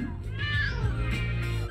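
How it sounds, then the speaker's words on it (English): A cartoonish cat meows in LEGO City Undercover, the trapped fire-station mascot calling from a ledge; one drawn-out, rising-then-falling mew over a busy game backdrop with murmuring voices. "You want me to rescue a cat?"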